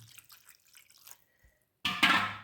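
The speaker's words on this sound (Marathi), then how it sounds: "आता आपल्याला किती पाणी पाहिजे ते टाकायचं." Water is poured into a cooking pot while making pitla, a splashing pour arriving abruptly near the end after quiet clinks and faint kitchen noise, loud and close, with no talk.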